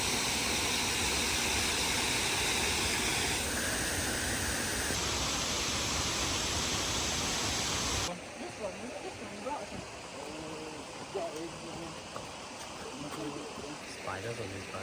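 Loud waterfall at Goit Stock in the UK, a dense broadband roar of rushing water that fills the whole clip and eases slightly partway through, with no talking.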